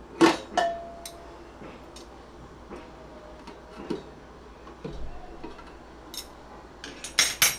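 Metal vessels clink and tap as one is set on top of a steaming pressure cooker while making dhokla, a series of scattered sharp metallic knocks, near and moderately loud, with no talk.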